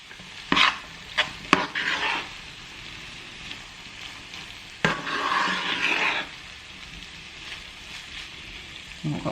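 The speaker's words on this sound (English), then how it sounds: "I'm going to add some green beans and some peas" Green beans and peas drop into a hot pan with jackfruit for a vegan Chinese stir-fry, bursting into sizzles alongside clattering scrapes of stirring in uneven bursts.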